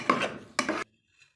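Spoon scraping and clinking against a pot while a roasted chickpea peda mixture with milk and oil is stirred: two close, gritty bursts of metallic rubbing, then near silence.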